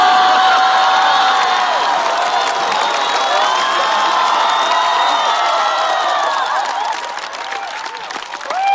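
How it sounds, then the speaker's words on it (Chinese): A stand-up comedy show audience bursts into loud, sustained applause with cheering and whoops. Dense clapping fills the hall for several seconds, then eases slightly near the end. "但是掌声不要停"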